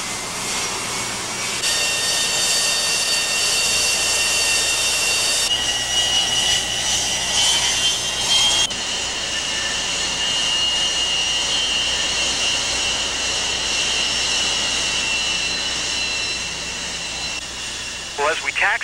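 Jet engines on military aircraft running steadily while taxiing on a carrier deck, a loud continuous roar and whine that holds for the whole stretch with shifts in pitch, with voices talking over it.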